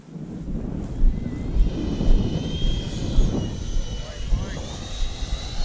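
A Freewing F-22 Raptor RC jet flies with a steady, airy ducted-fan roar, picked up close on board and buffeted by wind, while a person talks over it.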